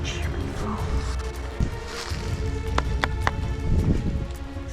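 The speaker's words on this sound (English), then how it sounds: "Why is it like torrential rain in the moment we put a tent on?" Torrential rain pours onto a tent pitched in the wild, making a steady drumming hiss broken by scattered sharper taps and thumps.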